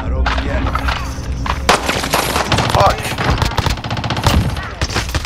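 Rapid automatic gunfire from a military shooter video game crackles close and loud in dense bursts and single shots, with men calling out tersely over the shooting.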